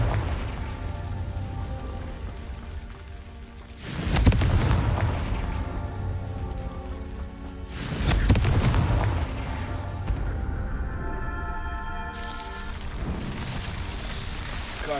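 Explosive blasts from the Confringo fire spell in the wizarding video game Hogwarts Legacy, two loud booming bursts about four seconds apart over steady game music and ambience, with a fainter crackling flare near the end.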